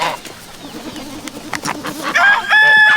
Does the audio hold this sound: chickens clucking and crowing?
yes